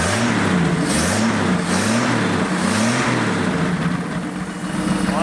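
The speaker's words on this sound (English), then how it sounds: "There's our running engine." Engine of a burnt, abandoned Chevrolet Nova runs steadily up close, a loud, fairly smooth idle with a rhythmic low pulsing throb that dips slightly near the end.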